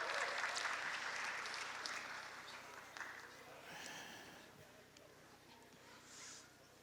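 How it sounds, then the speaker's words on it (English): An audience gives a round of applause at an interactive stage session, a broad burst of clapping that starts full and gradually fades out, fairly quiet overall. "Give him a round of applause."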